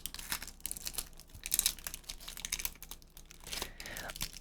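Plastic wrap being peeled and crinkled off a Magic: The Gathering white deck box, close crackling and tearing with dense rustles, while a voice talks softly over it.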